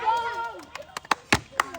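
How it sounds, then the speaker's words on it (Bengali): A small audience at a bottle-flip challenge for unlimited singara claps: a scattering of sharp, uneven hand claps comes in after a voice speaks over the start, several separate claps rather than a full round of applause. "হাততালি দর্শক হাততালি"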